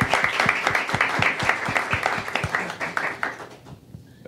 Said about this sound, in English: If we could do a quick round of applause for Gloria.